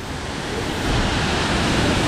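Strong river current rushing over rocks at Illikkal Kallu, a steady loud broadband roar of water with wind-like texture, close and continuous without any voices.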